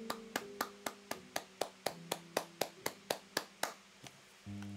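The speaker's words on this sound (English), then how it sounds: "I'm just going to give myself a round of applause." About fifteen sharp, evenly spaced hand claps ring out alone in a steady rhythm, a single person applauding themselves, ending with a brief tonal game sound.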